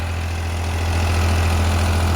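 A 50 hp tractor engine running with a rotavator in a wet, muddy field, giving a steady, loud, low diesel drone with a constant hum and no talking.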